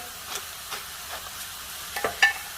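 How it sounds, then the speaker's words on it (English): Ground beef with dried minced onion, salt and cracked black pepper cooks in a pan, giving a soft steady sizzle with faint scraping stirs at intervals and a few louder clinks near the end. "And now I'm just gonna cook and saute this"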